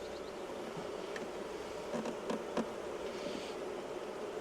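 Honeybees buzz around an open hive during an inspection, a dense steady hum with individual bees droning past up close, and no voices.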